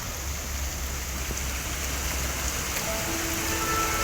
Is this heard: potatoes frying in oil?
no